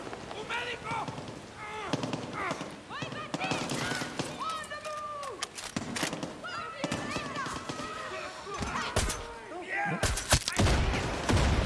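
Rapid bursts of gunfire and heavy thuds from a Far Cry 6 battle, sharp repeated shots crackling throughout over dense in-game explosions, with players talking over the action.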